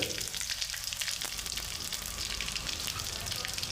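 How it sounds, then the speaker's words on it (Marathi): Mustard seeds, cumin and asafoetida sizzle and crackle in hot oil for a rice tempering, a steady close frying hiss running throughout with no talk. "मग घालायचं याच्यामध्ये मोहरी मग घालायचे जिरे थोडीशी हिंग"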